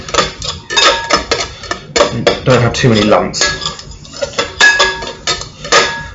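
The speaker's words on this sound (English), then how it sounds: "I'm chopping it in, literally just to break it up so it mixes with the flour" Frozen fat being chopped into flour for sausage roll pastry, a utensil knocking repeatedly against a bowl in a fast, uneven rhythm, close and loud, with a person talking briefly over it.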